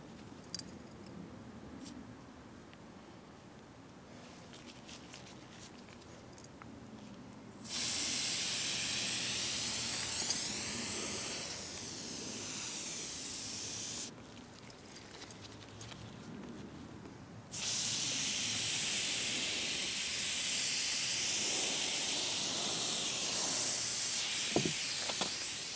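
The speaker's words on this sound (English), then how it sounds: "We gotta use a little bit of this spray" Two long, loud bursts of aerosol headlight restoration spray, hissing steadily for several seconds each, applied to the headlights of a 2009 Toyota Camry or 2000 Honda Accord LX sedan, with a quieter pause between them.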